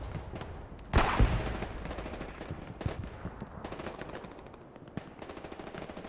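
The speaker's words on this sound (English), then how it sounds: "Artillery falling on the middle of Scar." Machine-gun bursts and gunfire crackle through a Hell Let Loose championship match on the Hurtgen map, with a loud pair of heavy blasts early and scattered shots continuing at a distance.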